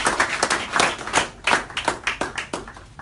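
Audience applause for a speaker being welcomed at a OneCoin OneLife marketing event in London, a sparse scattering of hand claps in uneven bursts, fairly close and moderately loud, with no talking over it.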